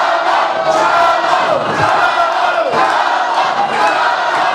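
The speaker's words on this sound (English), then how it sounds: "We got a raucous crowd here" Loud, raucous crowd at a wrestling show cheering and yelling continuously, a dense wall of voices with shouts rising throughout.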